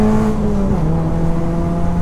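A Ford Racing Puma engine revs out with a loud, steady, buzzing tone whose pitch rises and then dips slightly partway through, close by and with no voices.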